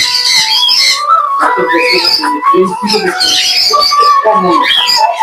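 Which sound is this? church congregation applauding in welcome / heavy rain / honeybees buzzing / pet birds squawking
pet birds squawking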